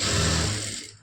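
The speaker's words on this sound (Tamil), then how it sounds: "அப்படியே ஸ்டிச் பண்ணி" Sewing machine stitching the lining of a blouse, a rapid steady mechanical whir close up that slows and stops after about a second.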